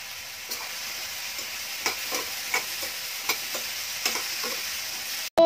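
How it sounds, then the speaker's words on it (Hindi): Bottle gourd (ghiya) sabzi frying in hot oil, a steady home-kitchen sizzle with soft, irregular stirring clicks and scrapes, moderately loud and without speech. "तो यहाँ पे बन रही है मेरी घीये की सब्जी, एंड तेल गरम हो गया है"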